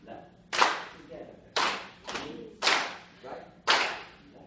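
Four sharp hand claps land about a second apart in a steady rhythmic pattern, loud and close with a short room echo after each, during a music education conference session.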